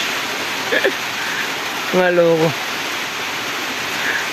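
Steady rain falls outdoors as a continuous broadband hiss, with a brief voice speaking near the middle.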